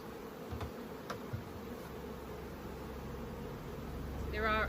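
Honeybees in a hive buzz steadily in a dense, continuous drone, fairly quiet, with a few faint knocks and a louder buzzing swell near the end.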